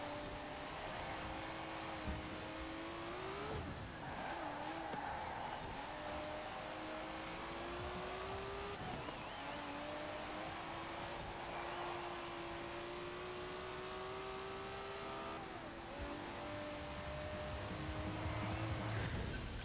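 A race car in the Forza Horizon 4 video game, driven in a damp seasonal championship race, gives a continuous faint engine drone with rising and falling pitch through gear changes, steady and without speech.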